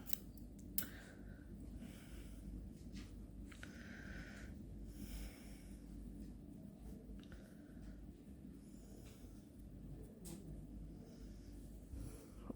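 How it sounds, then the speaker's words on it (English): Scissors snip yarn during a colour change on a corner-to-corner crochet baby blanket, a couple of brief, faint cuts in an otherwise quiet room. "snip your yarn"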